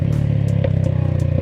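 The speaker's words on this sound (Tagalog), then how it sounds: "Backfire." A Loncin Terminator 200 single-cylinder motorcycle with dual exhaust idles steadily and lets out a sharp exhaust backfire pop partway through, with a few fainter pops following, heard up close.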